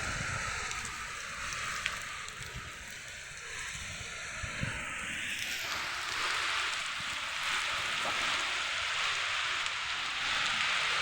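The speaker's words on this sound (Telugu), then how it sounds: "పుష్కలంగా మంచి వాన పడతా ఉన్నది." A heavy night rain shower falls near Gopalapuram, a continuous loud hiss of pouring rain that swells slightly halfway through, with scattered drip taps, no clear thunder and no voices.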